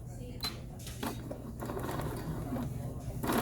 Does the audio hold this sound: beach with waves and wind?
no